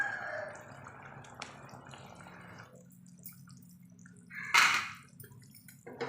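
Sardines are dropped one by one into simmering curry gravy, making a few soft, quiet plops and drips in a hushed kitchen.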